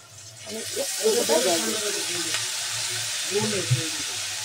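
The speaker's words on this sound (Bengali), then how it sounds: "চলো এবার সুন্দর করে একটু কষিয়ে নিই" Khoira fish chorchori with chilli powder sizzles and is stirred in a pan, a steady frying hiss running throughout while someone talks over it.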